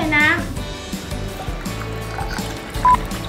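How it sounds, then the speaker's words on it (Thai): Water is poured in a short stream, with bright splashing and trickling mixed under a child and an adult talking throughout. "ตอนเทน้ำดีกว่า เทน้ำเทน้ำ"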